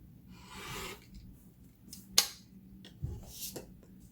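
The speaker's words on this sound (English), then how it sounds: "I flip it around and cut from the other angle" Scissors snip through fabric for party bunting, giving a few quiet, sparse cuts with one sharper snip near the middle, close but faint in a hushed room.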